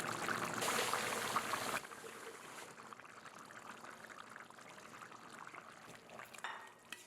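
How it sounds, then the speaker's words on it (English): Corn pie batter pours into a baking tray, a soft, steady liquid stream that is fuller at the start, then thins to a quieter trickle close by, with no talk over it. "I'll pour it into the baking tray and place it in the oven right next to the cassava pie"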